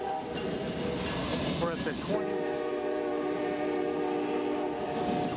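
A freight train carrying semi-truck trailers rolls past at night while slowing down, with a steady rumble and clatter and a sustained tonal squeal or horn-like drone; a person briefly speaks over it.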